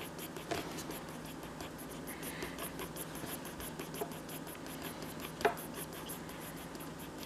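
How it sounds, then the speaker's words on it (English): Pencil shading back and forth on paper while drawing a woolly mammoth's hair, a faint, steady scratchy rubbing that runs throughout with a couple of slightly louder strokes, close and quiet with no talk. "just move your pencil back and forth like that"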